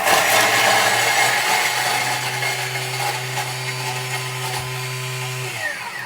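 A food processor running on turbo chops raw Asian stock paste, a loud steady motor whine with grinding that holds for about five seconds before winding down at the end.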